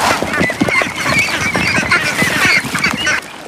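A crowded flock of farmed ducks quacks and honks loudly and continuously at close range after feeding, a dense overlapping racket.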